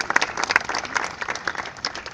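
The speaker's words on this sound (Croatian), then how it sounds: "Pozdravimo ih aplauzom." An audience at a cultural festival applauds a brass band, brisk and dense clapping filling the hall, loud and continuous.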